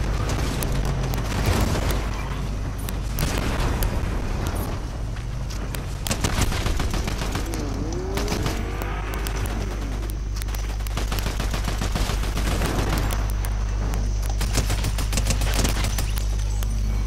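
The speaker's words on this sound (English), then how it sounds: "I'm getting shot at." Rapid bursts of gunfire fill a Fortnite match, loud and continuous with dense automatic fire and scattered booms over a steady low rumble, no talking.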